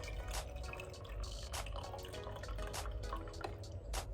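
Celery juice from an Omega MM900 juicer drips through a strainer in quick, irregular droplets, close and faint over a steady low background hum.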